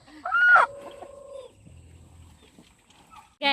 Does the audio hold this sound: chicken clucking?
yes